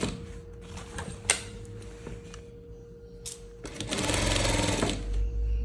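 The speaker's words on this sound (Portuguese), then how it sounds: "A lateral, nós vamos costurar com um pezinho de máquina pra fazer a costura francesa" A domestic sewing machine with a presser foot stitches a French seam on a leopard-print dress, a short backstitch at first and then a steady, close, continuous whirring run, with someone talking quietly in between.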